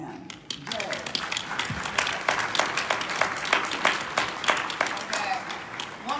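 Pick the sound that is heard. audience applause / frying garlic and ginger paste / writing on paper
audience applause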